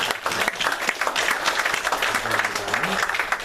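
A church congregation claps in encouragement during a Sunday worship service, a dense, steady round of applause at moderate loudness that fills the space, with faint voices underneath.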